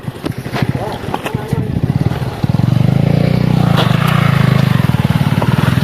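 A motorbike engine labours uphill close by, its rhythmic putter thickening into a louder, steady drone midway, with someone talking over it.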